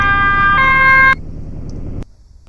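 Ambulance siren in a video game, loud and close with a two-tone wail that cuts off abruptly, leaving a low engine hum that then drops away, no talking.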